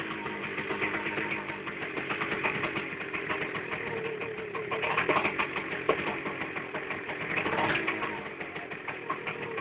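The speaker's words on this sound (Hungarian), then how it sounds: "De talán hallani a motor hangja, gyönyörűen tisztán szól." An engine idles steadily with a fast, even mechanical chatter, close and continuous, with slight surges in loudness.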